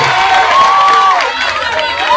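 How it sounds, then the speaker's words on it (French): Students at a school talk session in an institute hall cheer and shout in a loud, lively crowd, voices rising and falling together with some scattered clapping mixed in. "Applaudissons pour ce monsieur."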